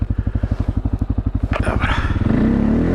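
A quad ATV, a Kymco MXU 700 or CFMOTO 625, idles with a close, rapid thumping engine pulse, then revs up and pulls nearer with a rising drone.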